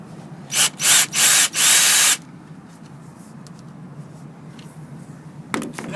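A power drill drives screws into a 3070-T sliding glass door frame in four short, loud whirring bursts close by, followed by quiet and a brief further sound at the end.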